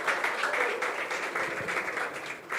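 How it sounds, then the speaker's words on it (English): An audience claps after the second-place finisher is announced at the Falling Walls Lab Ghana 2025 awards. The applause is moderate and continuous, with a busy room sound underneath and no clear speech. "Oh, a big round of applause."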